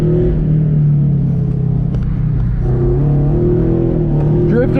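A Toyota FRS drifts through a corner on an autocross course, its engine a loud, steady low drone with shifting pitch and some tire noise, close and continuous.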